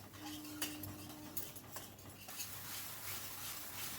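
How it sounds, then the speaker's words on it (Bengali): Thick spiced masala being stirred and fried in a pan until oil separates, for a fish curry, with a utensil scraping and clinking against the pan in a few sharp knocks over a steady low frying background. "আবার একটু ভালো করে কষিয়ে নিচ্ছি।"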